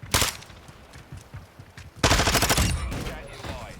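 Automatic gunfire in Warzone 2 with a customized loadout gun: a short burst near the start, then a longer, louder sustained volley of rapid shots from about halfway on, with a faint voice underneath.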